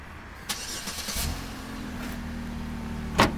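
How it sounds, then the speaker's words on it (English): A silver 2007 Pontiac G6 GT two-door starts by remote, cranking and catching into a steady idle hum, with a few clicks and a sharp knock near the end. "Remote start on this."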